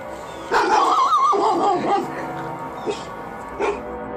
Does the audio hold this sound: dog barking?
yes